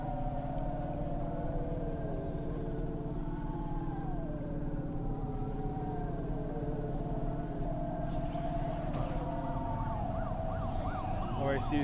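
In the video game Cloudpunk, a police car siren wails continuously, a loud wavering tone over a steady city and vehicle hum, with a faster yelping pattern toward the end and no speech.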